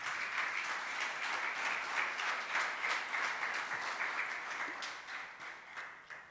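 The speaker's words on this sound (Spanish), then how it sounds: "Denle una ofrenda de palmas al Señor." Sustained applause from a church congregation during a worship service, steady and fairly loud, tapering off slightly toward the end.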